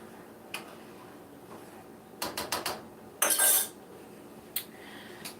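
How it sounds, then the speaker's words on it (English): A spoon clinks and scrapes against a pot of chili as it is stirred, with a few sharp metallic taps, a short cluster of knocks and one louder scraping rattle, close by in a quiet room. "I'm stirring my chili"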